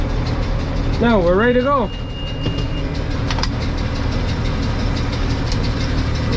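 Massey Ferguson MF6499 tractor engine holds a steady, loud drone at preset throttle before silage baling, with someone speaking briefly over it near the start.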